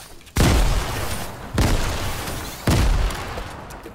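Three loud grenade explosions in Fortnite, each a sharp booming burst followed by a rumbling tail, spaced roughly a second apart and close by.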